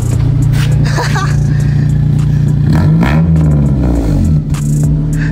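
A Honda Jazz Hybrid Modulo with a new exhaust revs loudly up close, the engine note rising and dropping through a couple of throttle blips over a steady idle, with voices talking over it.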